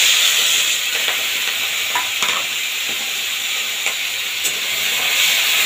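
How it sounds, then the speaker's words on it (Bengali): Salted, turmeric-coated small shrimp dropped into hot oil with tempering spices for a Bengali cauliflower-stem curry, giving a loud, steady sizzle and hiss with light stirring scrapes now and then and no voices. "সেই সময় আমি এই নুন হলুদ মেখে রাখা চিংড়ি মাছগুলো এর মধ্যে দিয়ে দেবো"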